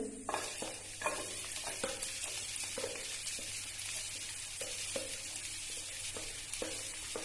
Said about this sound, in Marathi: तर फोडणीमध्ये मी पहिल्यांदा कांदा टाकून घेते